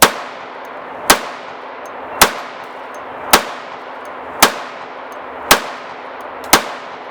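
Seven sharp gunshots from a Tisas 1911 Tank Commander, a Commander-size pistol with a 4 1/4 inch barrel, fired at a steady pace about a second apart, each loud crack trailing off into a short ringing decay.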